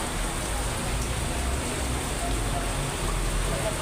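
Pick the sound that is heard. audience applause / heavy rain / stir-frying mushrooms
heavy rain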